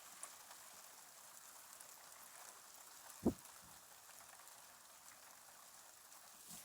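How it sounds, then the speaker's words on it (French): Light rain falls outdoors as a steady, soft, hissing patter, faint and distant, with one brief louder tap or drop near the middle and no voices over it. "Il tombe des gouttes de pluie, c'est tout mouillé partout."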